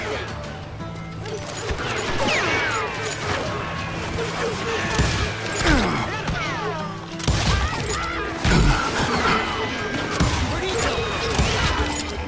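Rapid, overlapping gunshots and impact crashes from a Wild West shootout in the game Call of Juarez Gunslinger, sustained and dense throughout with louder bursts near the middle and end, mixed with in-game voices.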